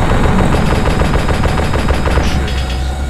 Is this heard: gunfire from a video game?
yes